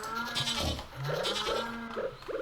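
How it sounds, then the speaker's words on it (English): Barn animals in the Stardew Valley video game respond to petting with several short, clear goat-like bleats that repeat at uneven intervals. No one talks during it. "Petting the barn animals."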